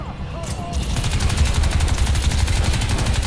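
Rapid gunfire in the video game Crysis 2: a loud, sustained automatic burst with fast, evenly spaced shots rattling continuously without pause.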